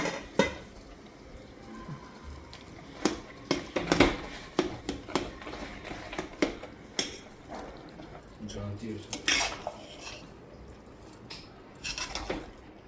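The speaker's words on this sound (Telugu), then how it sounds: "కొబ్బరి కూర బెల్లం పైకి కిందకి శుభ్రంగా కలుపుకోవాలి." Grated coconut and jaggery stirred in a pan for a sweet coconut dish, with repeated close scrapes and clinks of a spoon against metal at an irregular rhythm over a soft background.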